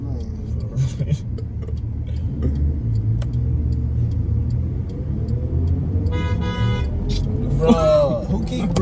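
Traffic noise around a car with a big city bus nearby, horn toots sounding from behind near the end over a steady engine rumble, with people talking inside the car.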